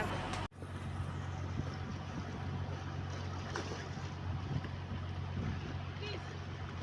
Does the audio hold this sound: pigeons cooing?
no